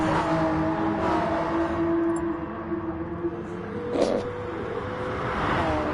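Steady engine drone of a Porsche Supercup race car in a racing video game on the Dragon Trail Seaside circuit, a sustained mid-pitched whine holding fairly constant, with no talk.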